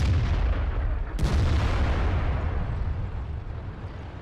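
A tank cannon fires in World of Tanks, one sharp loud report near the start of a dense, continuous rumble of battle noise with no talk.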